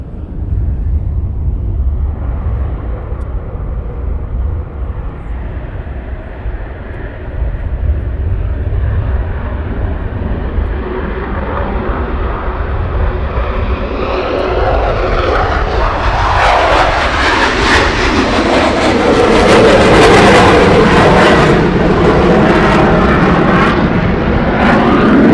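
A military aircraft takes off at RAF Coningsby, its loud engine roar rising steadily and swelling into a harsh, powerful blast near the end as it passes close.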